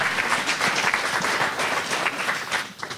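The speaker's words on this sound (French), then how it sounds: "je crois qu'on peut applaudir Aurélie Barrochet et Guilhem Renaud" A roomful of people at a public debate on finance applauds the speakers, steady dense clapping at close range that begins to thin out at the end.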